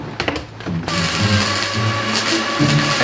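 An angle grinder shaves a galvanized steel weld on a car exhaust, starting with a few short bursts before settling into a loud, steady, high whine that runs continuously to the end.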